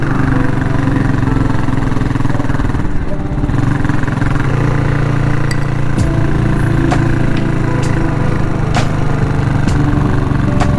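A classic Cafe400 motorcycle runs steadily on a winding mountain road between Pangasinan and Nueva Vizcaya, its loud engine drone continuous and close throughout, with no talk.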